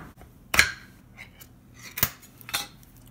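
A can of hearts of palm is worked open with sharp metallic clicks and scrapes, three distinct snaps spaced out over a quiet kitchen background.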